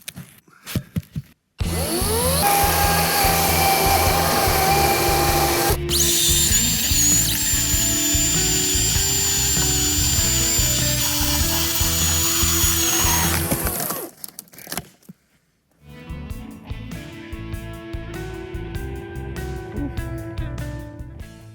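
A battery chainsaw with a 5 amp battery whines loudly as it cuts through a big chunk of timber, pausing briefly before starting again with a steady, high-pitched motor drone.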